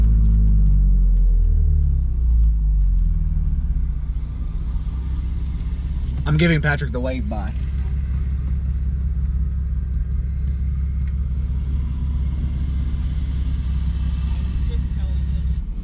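An Aston Martin V8 Vantage and a BMW M4 with loud exhausts driving on winding Tennessee mountain roads: a low, steady engine rumble throughout, with someone talking briefly over it near the middle.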